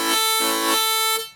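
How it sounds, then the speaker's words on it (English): Harmonica played with a tongue block on hole 4, the tongue lifting off to open the note in a few quick pulses, three swells over a sustained breath, close and alone. "the lift is simply where the tongue lifts off the harmonica from a single hole tongue block"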